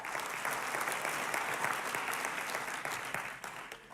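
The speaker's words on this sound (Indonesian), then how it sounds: "Kita kasih aplaus buat penyanyi-penyanyi kita" A church audience claps continuously for the singers, dense and steady applause close up that tapers slightly toward the end.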